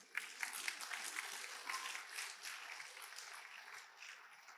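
Audience applause at a church address on Nigeria's APC presidential primary, a steady wash of hand clapping throughout, moderately distant and fairly quiet with no speech over it.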